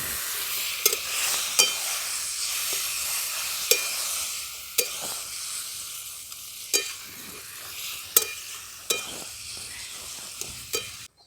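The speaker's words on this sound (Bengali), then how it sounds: "সমস্ত কিছুর সাথে লাউটা দিয়ে লাউটা নাড়াচাড়া করে মিশিয়ে নিয়েছি" Boiled bottle gourd being stirred in a pan of frying lentil dumplings (bori) and cumin, with a soft steady sizzle broken by regular scraping strokes of a spatula, about one each second, close up.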